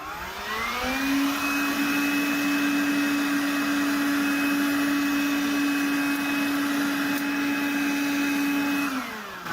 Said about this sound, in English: This is the Azollin 20-volt cordless blower.